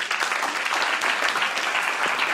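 Audience applause after three speakers at a philanthropy chair event, thick continuous clapping filling the room at close range, with a few murmured voices underneath.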